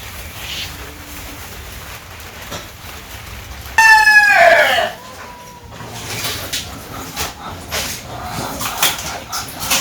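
Chickens at feeding time in a Bangladeshi village, giving one short, loud burst of squawking clucks in the middle, with quiet household background before and after.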